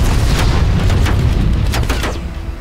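Deep, booming blast from a frag grenade in the Call of Duty Black Ops Cold War campaign, a loud sustained roar of low rumble filling the whole moment with no talk over it.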